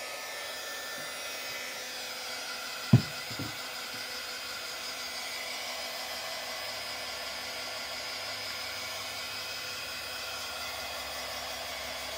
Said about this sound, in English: So I think I will hit it with my heat gun really quickly.